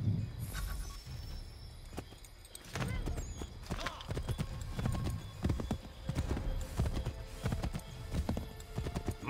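Horse hooves clip-clopping at a riding pace in Assassin's Creed III, a quick steady rhythm of hoofbeats with the odd snort, fairly close, over ambient game sound.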